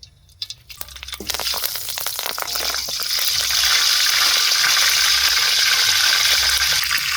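Curry leaves dropped into hot oil for egg fried rice burst into a loud, rising sizzle after a few quick clattering taps, settling into a steady, close crackling hiss that fills the rest of the time.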